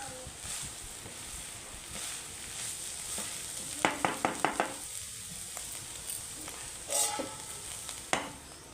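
Spices sizzling in hot oil as a tempering for a jackfruit curry, stirred in the pan with several sharp scraping and clacking strokes over a steady frying hiss.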